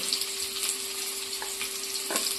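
Onions going into hot oil in a home kitchen pan for veg chow mein make a steady close sizzle, with a few brief clinks and a faint tonal hum running beneath, and no one speaking.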